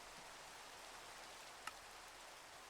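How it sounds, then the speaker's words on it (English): Rain in Minecraft, a faint, even hiss of falling drops with one brief sharp tick near the end and no talking. "This rain is really annoying."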